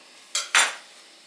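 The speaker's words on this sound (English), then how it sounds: "I'll just take a knife and debubble." A knife taps twice against a glass canning jar of collard greens, giving two quick, close, bright clinks in a quiet room.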